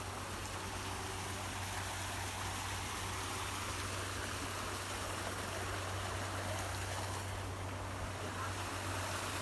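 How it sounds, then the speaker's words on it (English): Water from a stream flowing into a lake, a steady broadband rush with a low hum beneath, constant and moderately close, with no speech. "It's really nice to be around the sound of water,"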